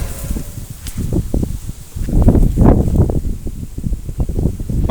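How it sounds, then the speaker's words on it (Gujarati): Leaves rustling in a windstorm, with broadband gusts that swell and fade over a few seconds, loudest toward the middle and staying fairly close. "હવા આવે છે વાવાઝોડું આવેલું છે"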